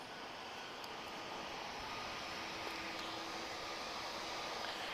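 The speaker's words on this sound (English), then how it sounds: "I see Star Air. She's about to taxi towards us." A Star Air aircraft taxis at Lisbon Airport, a steady broad jet-engine roar and hiss holding at a constant level from a distance, with no voices.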